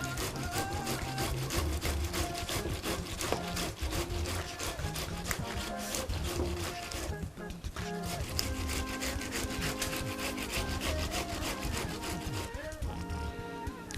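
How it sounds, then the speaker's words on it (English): Tomatoes are grated on a grater in quick, steady rubbing strokes, a dense rasping scrape that repeats continuously at close range with no talk over it. "I'll just simply grate the tomatoes as well."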